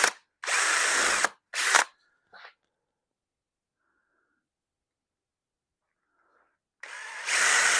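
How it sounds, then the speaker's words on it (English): A power drill boring into wood whirs in short bursts, two quick runs, a brief pause, then a longer steady drilling burst near the end; otherwise quiet. "I'm only going to take and run the drill bit until the very tip touches the bottom of my hole"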